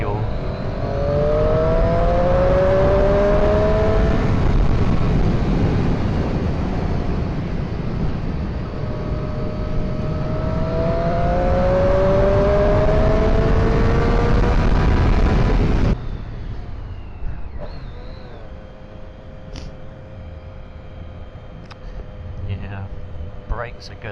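A 2017 Triumph Street Triple RS motorcycle engine revs up and down in rising, falling sweeps, loud and close, then drops to a quieter idle with faint knocks.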